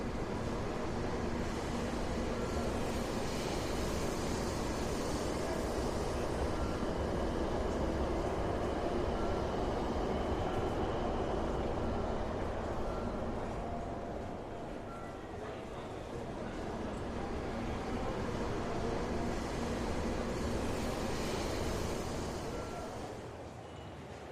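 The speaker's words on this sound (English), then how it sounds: "it takes about 50 seconds from when the train reaches the end of the platform until it stops" Hikari 500 Shinkansen train rolling into a station along a long platform and slowing to a stop, a broad steady rumble and rush that eases partway and swells again, heard alone.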